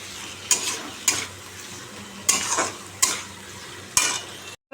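Three eggs fry in a pan, a low, steady sizzle broken by five loud, spaced scrapes and clinks of a utensil against the pan, close by.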